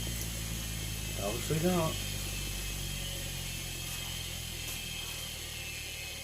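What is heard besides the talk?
three-phase motor running with one phase disconnected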